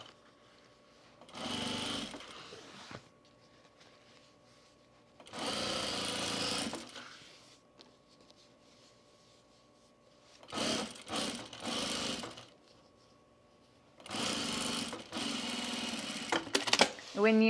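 A sewing machine stitches binding onto a boxy bag in several separate bursts of steady mechanical whirring, with quiet pauses between runs.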